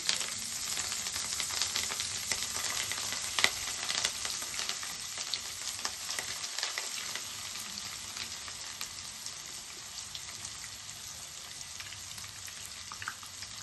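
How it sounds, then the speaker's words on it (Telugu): Fish pieces fry in a small amount of hot oil in a kadai, a steady, faint, hissing sizzle that carries on alone with occasional small pops. "ఆయిల్ వేడయింది. మనం చేప ముక్కలు వేసుకుందాం."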